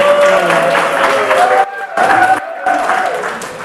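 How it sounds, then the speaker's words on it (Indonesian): Classroom audience applauding the winners of a university lecture contest, a steady burst of clapping with some chatter and voices mixed in, briefly dropping out twice before resuming. "Silakan tepuk tangan untuk."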